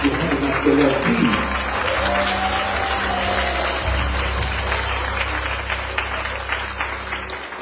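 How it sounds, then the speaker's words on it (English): Hands clap throughout a church congregation in a continuous, moderately loud patter during a sermon, with a low hum beneath and the clapping tapering slightly toward the end. "I said clap your hands like you love Jesus"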